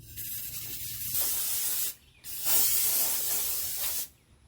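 Two long, loud bursts of compressed air hiss close by, blowing loose concrete mortar mix off a painted surface, with a brief pause between them and a quiet gap at the end.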